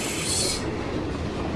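Train passing in the video game PUBG: a brief, loud rumbling rush with a bright metallic hiss that cuts off after half a second, leaving low rolling rumble.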